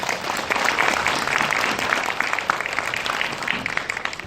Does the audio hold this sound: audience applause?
yes